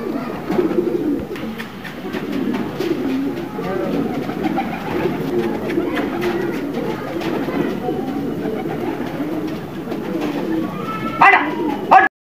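A flock of racing pigeons released by their keeper takes off and circles overhead, steady fluttering and cooing running throughout at moderate loudness, with a dog barking and people talking in the background.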